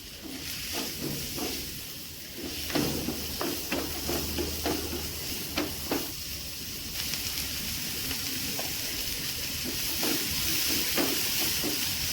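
Chopped onions hitting hot oil in a pan give a loud, steady sizzle and hiss, broken by scattered pops and stirring clicks throughout.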